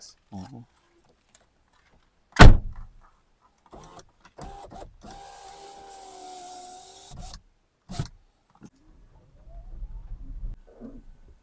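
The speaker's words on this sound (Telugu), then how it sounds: "డోర్" A single solid thud of a Tata Tiago electric car's door shutting nearby, followed by quiet cabin sounds and a steady electronic hum.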